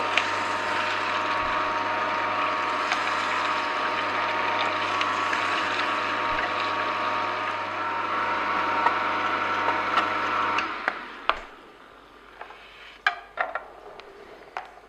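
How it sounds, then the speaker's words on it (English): An Angel Juicer twin-gear juicer crushes apples with a steady mechanical grinding hum for about ten seconds. The motor then stops, leaving a few sharp clicks and knocks from the machine in near silence. "that was a glass of apple juice"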